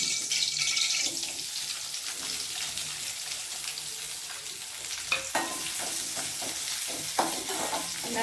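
Two large sliced onions sautéing in oil in a pan, a soft continuous sizzle broken by a few sharp stirring scrapes and clicks, close and fairly quiet, with no talking.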